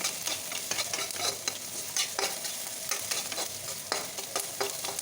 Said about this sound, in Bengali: চারটে পেঁয়াজা আছে অল্প লবণ দিলাম তাড়াতাড়ি এটা নরম হয়ে যাবে বলে